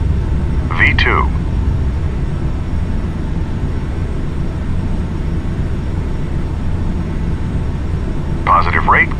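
A steady low rumble of CRJ700 jet engines at takeoff climb power in Flight Simulator X, filling the whole span at constant level, with two brief voice snippets breaking in near the start and end.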